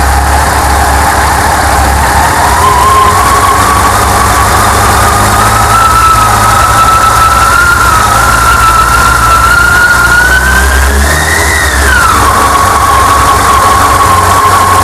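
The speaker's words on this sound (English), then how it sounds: "As you can see, it's quite jumpy in idle, but if I raise it a little bit," A Yamaha FJR motorcycle engine idles steadily and loudly, with its pitch rising as the revs are lifted slightly, then settling back down, during a throttle body sync after a spark plug change.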